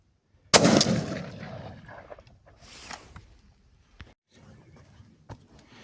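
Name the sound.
Beretta 828U shotgun firing with cylinder choke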